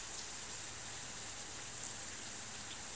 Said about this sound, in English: The rain outside slammed against the window hard.